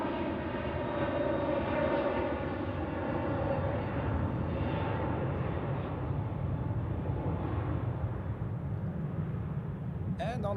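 An Airbus A321neo jet on runway 28 at Zurich Airport gives a steady, moderately loud engine roar that holds for the whole stretch, heard from a distance with a commentator speaking over it.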